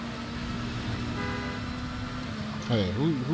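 Car horn honking inside the Gotham Knights video game, a sustained tone that swells near the end over a steady engine and traffic drone, with a voice talking under it.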